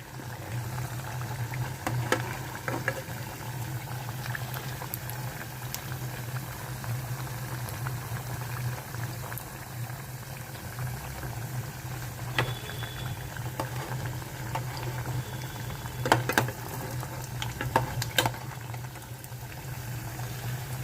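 Jaggery appalu, sweet festival offerings, fry in hot oil with a steady, close bubbling sizzle that runs throughout, broken by a few louder crackles and spatters.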